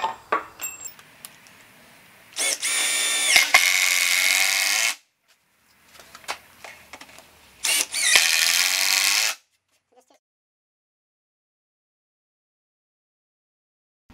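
A power drill drives screws into a wooden concrete form board at an outdoor patio build, with two loud whirring bursts of a few seconds each separated by a pause, and light handling clatter before and between them.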